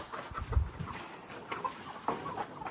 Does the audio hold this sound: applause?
no